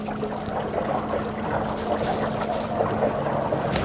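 A small portable fishing boat moves across water, giving a steady low motor drone with splashing, rushing water and wind noise throughout, close and continuous with no talking.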